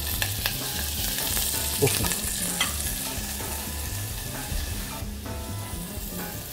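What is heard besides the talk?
lobster shell sizzling in olive oil in a saucepan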